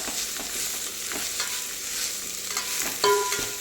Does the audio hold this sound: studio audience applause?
no